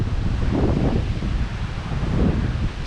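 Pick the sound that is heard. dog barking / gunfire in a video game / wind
wind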